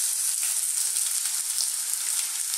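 Onion sizzling in hot sesame seed oil for a Thai chicken curry, a steady bright crackle and hiss that stays close and constant with no talking.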